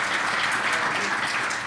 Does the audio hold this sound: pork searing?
no